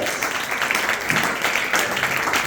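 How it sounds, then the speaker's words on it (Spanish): Church congregation clapping for Jesus during a sermon, a steady dense wash of applause from many hands throughout, fairly loud and continuous. "Ustedes bien las palmas a Jesús como que están desanimados."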